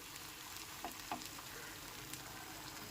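Thin rice flour batter for sheet pitha cooks in a pan over a low gas flame, giving a soft, steady sizzle with a few faint pops.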